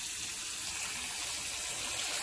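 Hot water runs steadily into a kitchen sink during dishwashing, a continuous hiss of flowing water at close range with no talk.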